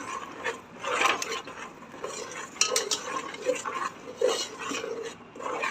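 A spoon stirs fenugreek into jaggery for methi laddu, making continuous close scraping and gritty rasping sounds with small clinks against the vessel and no talking.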